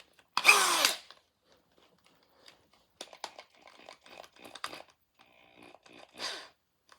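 A drill bit whirs briefly into a Honda GX160 carburetor in one short, loud burst, followed by quieter scattered clicks, taps and handling noises of small parts.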